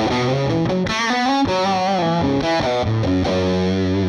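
An electric guitar run through a Universal Audio amp plugin with fuzz distortion plays a fast melodic line of sustained, saturated notes, thick and buzzy, with no voices.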